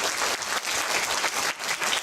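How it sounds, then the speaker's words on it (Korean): Audience applause at a Korean social welfare council anniversary talk concert, a steady wash of many hands clapping that swells and dips for about two seconds with no talk over it. "박수 한번 보내주시면 감사하겠습니다"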